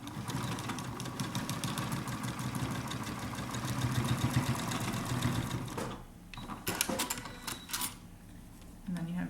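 A sewing machine back stitches a cloth face mask in a fast, rapid rhythmic run that stops briefly before a few short bursts of stitching, with a voice speaking over it.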